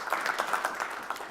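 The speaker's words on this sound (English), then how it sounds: "Another round of applause for David" Audience applause for a speaker at a business forum competition session, a short burst of scattered clapping, moderately distant and steady, with no talk over it.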